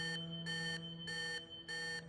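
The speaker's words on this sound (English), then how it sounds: "The alarm from the flux stabilizer resounds through the entire operating room" The flux stabilizer alarm in an operating room in Love and Deepspace blares in steady repeating pulses, four long loud tones with short gaps.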